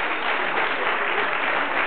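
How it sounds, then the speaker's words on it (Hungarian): At a season-closing drift racing awards ceremony at KakucsRing, the crowd applauds a second-place finisher with continuous, dense clapping, steady and fairly loud throughout. "Mikinek még egy tapsot kérek"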